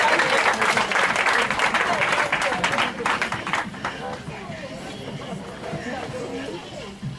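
Church congregation at a Sunday service applauding the Lord: loud, dense clapping with cheers and crowd chatter that gradually eases off into murmuring voices.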